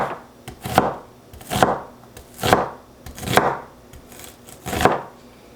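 A knife slices through sausage on a cutting board for red beans and rice, giving five or six evenly spaced, crisp chopping thuds close by with no talk.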